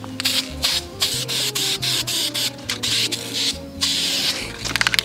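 An engine being spray painted in several coats, with repeated bursts of hissing aerosol spray separated by short pauses and a steady low hum underneath.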